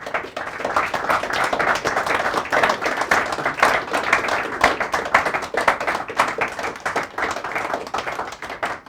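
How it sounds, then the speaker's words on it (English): Audience applause for a speaker at an Adam Smith Institute evening talk, steady sustained clapping from a sizeable room, close and even throughout with no talk over it. "please a round of applause for our speaker tonight"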